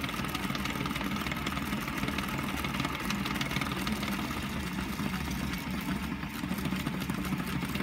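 Electric motor driving belts on an R2-D2 droid build, a steady close mechanical whir and rattle running continuously at an even level without talk.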